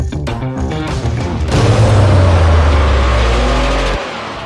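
A Porsche engine revs hard, climbing from rough idle bursts into a loud sustained roar before cutting off sharply near the end, close and unaccompanied by talk.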